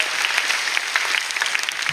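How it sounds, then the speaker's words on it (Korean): A church congregation claps continuously during a Sunday evening service, a dense, steady wash of applause that holds at an even level throughout. "다시 한번 하나님께 영광의 박수 올려드립니다."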